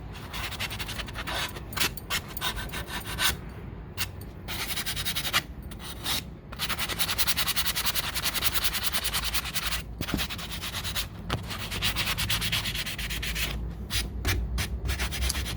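Sanding a wooden cradle board before epoxy work, a close, continuous abrasive rasp with rhythmic back-and-forth strokes and brief pauses, no talking.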